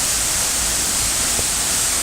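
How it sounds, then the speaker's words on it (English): The central cascade waterfall at Watkins Glen roars steadily, a dense, broad rushing hiss that stays loud and unbroken throughout, with no voices. "And you guys see this central cascade?"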